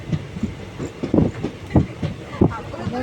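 A train runs along the railway through the Western Ghats, heard from on board as a rhythmic clickety-clack of wheels over rail joints, with repeated low thumps and rumble.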